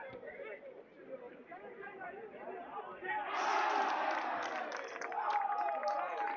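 Rugby fans at a junior match between the U20 Junior Sables Select and Outback Barbarians break into a loud, sustained crowd roar midway through, following a stretch of commentary and babble, and the roar continues to the end.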